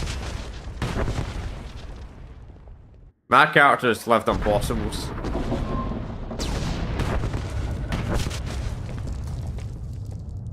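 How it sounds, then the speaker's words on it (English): A bomb detonates in Star Wars: The Old Republic, a sudden loud booming blast after a brief silence, with rumbling debris and crackle continuing beneath a man's speech. "Think a little explosion's gonna kill me when I beat the Sith Emperor?"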